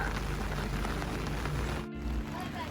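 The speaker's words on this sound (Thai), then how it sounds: "ฝนตกอ่ะ" Steady rain hisses densely during a trip in Surat Thani, a continuous close wash of falling water with a voice speaking briefly over it.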